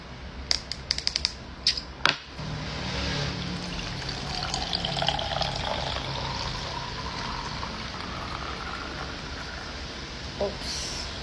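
Milk poured from a breast pump bottle makes a soft steady trickle after a few sharp plastic clicks and taps, with a faint voice in the background.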